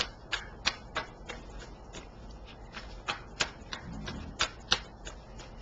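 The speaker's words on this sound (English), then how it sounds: "just shuffling first. Make sure everything's well mixed up." Tarot cards being shuffled by hand, a quiet series of short crisp riffling snaps at an irregular rhythm over low room noise, with no talking.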